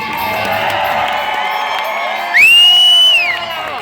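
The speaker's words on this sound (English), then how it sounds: "everybody is clapping and screaming" A crowd at a NASCAR event cheers and whoops loudly, a steady roar of many voices with a shrill rising whistle or scream cutting through near the end.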